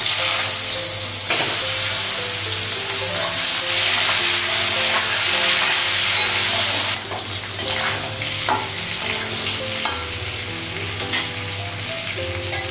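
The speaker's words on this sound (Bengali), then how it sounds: "পেঁপে আর আলুটা একটু ভেজে নেব" Papaya and potato pieces fry in a pan with a loud, continuous close sizzle and occasional stirring scrapes and clinks, the hiss dipping and swelling as the pieces are turned.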